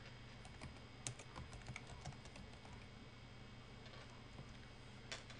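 Computer keyboard typing, a steady patter of soft key clicks with a few sharper taps, faint and close, continuing without pause and with no voices.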